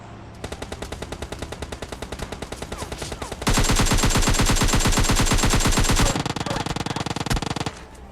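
Automatic Uzi fire in the video game PUBG Lite, rapid rattling bursts from a distant gun that give way to a louder, continuous close stream of shots before easing back, with no talk.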